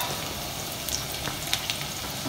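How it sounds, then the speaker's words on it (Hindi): Chopped garlic frying in a little oil in a pan, a steady close crackling sizzle with scattered small pops and spits, no voices over it. "उसमें मैंने थोड़ा सा ऑयल डाला है और ऑयल डालने के बाद मैंने उसमें थोड़ा सा चॉप गार्लिक ऐड किया"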